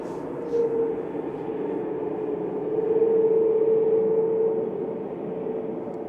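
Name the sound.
Swiss Airbus A321 airliner arriving at Manchester Airport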